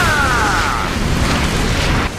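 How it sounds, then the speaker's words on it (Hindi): An explosive blast in an anime fight from a Hindi-dubbed Jujutsu Kaisen episode: a loud, sustained rumbling boom with a brief sweeping whine at its start, fading slightly at the end. "ये आवाज और धमाके से दोहरा हमला करते हैं।"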